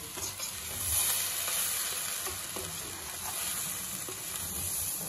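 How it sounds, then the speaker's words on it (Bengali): Washed Gobindobhog rice and lentils are sautéed with spiced vegetables in a pot, a soft steady sizzle with gentle stirring scrapes, fairly quiet and without talk. "মশলা সবজির সঙ্গে চাল ডাল ভালো করে মিশিয়ে নিতে হবে"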